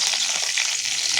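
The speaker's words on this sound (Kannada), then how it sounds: "ಬಾಣಲಿ ತಗೊಂಡು ಎಣ್ಣೆ ಹಾಕಿ ಸಾಸಿವೆ, ಜೀರಿಗೆ, ಸ್ವಲ್ಪ" Mustard seeds and cumin sizzle and crackle in hot oil in a pan, a dense, steady frying hiss that fills the whole short stretch with no talk.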